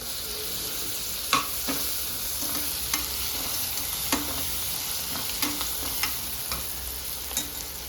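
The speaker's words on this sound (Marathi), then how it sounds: "थोडीशी कोथिंबीर पण टाकते तेलामध्ये।" Coriander and spices hit hot oil for masoor dal khichdi, a continuous sizzle broken by sharp spoon knocks and scrapes against the pan every second or so, close and alone without talk.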